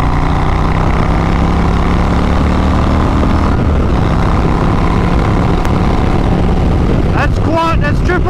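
Motorcycle engine rising in pitch as the bike accelerates at speed, loud and steady with heavy wind rush throughout, and a brief burst of music or voice near the end.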